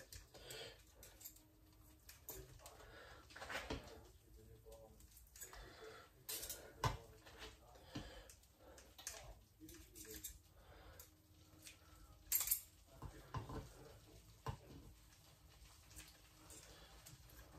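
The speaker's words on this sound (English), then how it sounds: "I'm just going to cut them again with scissors" Intermittent snips and clicks of kitchen scissors cutting chicken into small pieces, mixed with clinks of utensils and dishes, in a quiet room without talking.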